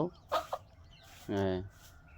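Hens kept for laying in a Bangladeshi village yard give a few short clucks, then a longer, drawn-out cackle nearby, with people talking faintly around them.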